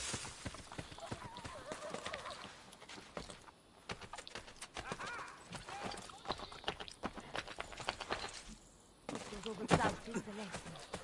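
Rapid clip-clopping horse hooves gallop steadily under a busy soundtrack in the game Assassin's Creed Brotherhood, with occasional horse whinnies and a voice talking over parts of it.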